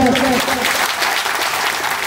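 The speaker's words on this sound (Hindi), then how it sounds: "इनके लिए जोरदार तालियों से स्वागत" Loud applause welcomes an 85-year-old senior guest at the national Modi Barnwal community convention in Jharkhand, opening with a brief voice and music over the clapping, then continuing as dense, steady clapping.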